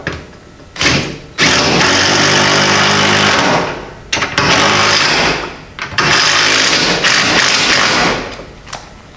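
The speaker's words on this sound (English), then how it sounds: "Then I'm using some lag screws, some 3/8 lag screws to go ahead and hold this right to the wall." A power tool drives 3/8 lag screws into a wall in a pole barn, roaring in three long, loud bursts, each starting with a sharp thump and separated by short pauses, with no talking.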